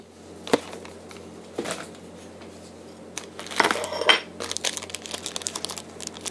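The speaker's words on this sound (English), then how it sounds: "Alright, so unwrap the burrito." A vegan burrito being unwrapped from its packaging, with sharp crinkling and tearing bursts spread irregularly over a quiet room background, loudest in a cluster near the middle.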